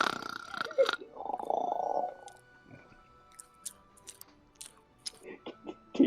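A person chews food close to a microphone, with wet, crunchy bursts early on followed by quieter, scattered mouth clicks and smacks.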